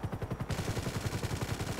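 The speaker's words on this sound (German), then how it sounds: "Schau dir mal die Schüsse an." Rapid, continuous bursts of automatic gunfire in GTA 5, steady and rhythmic, loud and close, with no pauses.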